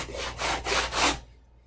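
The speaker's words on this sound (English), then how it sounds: "Put it down on a piece of sandpaper and then sit here and sand these down any way I want" Thin wood strips are rubbed back and forth on sandpaper, giving three close, steady rasping strokes of even loudness before the sound stops.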